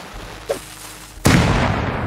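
Explosions from raiding in the survival video game Rust: a small blast, then after a pause a heavy, loud boom whose rumble carries on for nearly a second.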